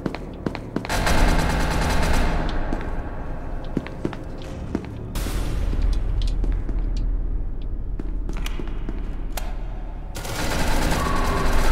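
Rapid gunfire bursts in the video game SCP: Secret Laboratory, loud automatic volleys crackling over steady footsteps and game ambience, stopping around the middle and then surging again near the end.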